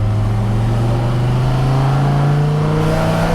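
A 2001 Dodge Viper RT/10 with a Belanger exhaust pulls hard in first gear, its loud, steady engine note rising continuously in pitch as it accelerates, heard from inside the car with no talking.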